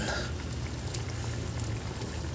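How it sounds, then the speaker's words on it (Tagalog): Steady bubbling and gentle simmering of sardine soup in a pot, a continuous low burble with soft pops, close and fairly quiet, no voices. "Kumukulo-kulo na siya."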